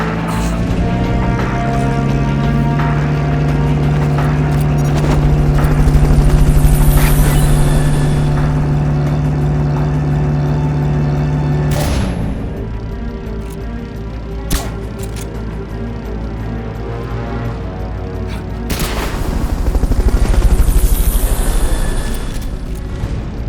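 Helicopter in the video game Metal Gear Solid Peace Walker, a sustained low mechanical hum with deep booming swells that rise and fade twice, heard on its own without voices.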